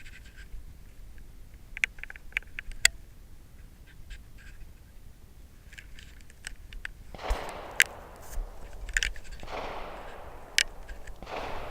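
Distant gunshots crack at intervals from an outdoor firing range, sharp isolated reports over steady open-air background noise, with a denser rustling stretch later on.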